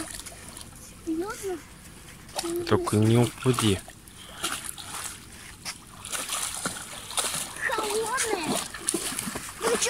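Water splashes and sloshes in a short burst as a child dips a hand into cold water outdoors, with adults talking before and after and a voice nearby.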